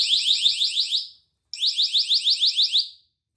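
Nextorch ND-30 distraction device in mode 2 sounds two cycles of a shrill, rapidly warbling electronic alarm, each burst about a second long of pulsing chirps, separated by a brief silence, loud and close with nothing else heard.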